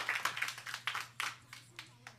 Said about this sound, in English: The applause is just not exactly what we had in mind.